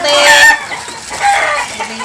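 Chickens cluck loudly and close by in a short burst, sounding a couple of throaty calls with a brief pause between them, and no voices are heard over them.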